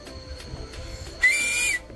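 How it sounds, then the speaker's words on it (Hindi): A person whistles a single sustained, piercing note lasting about half a second, loud and close after a stretch of quiet room noise. "जैसे मैंने अभी सीटी बजाई"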